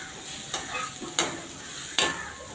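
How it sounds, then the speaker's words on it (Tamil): Chopped onions sautéing in ghee in a pan for an egg gravy: a low steady sizzle broken by three sharp spoon scrapes against the pan. "வெங்காயத்தை சேர்த்துட்டு நல்லா வதக்கிக்கலாம்."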